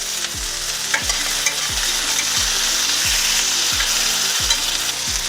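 A pork chop sizzles loudly and steadily in a hot pan, with a few scraping stirs of a utensil over the constant crackle.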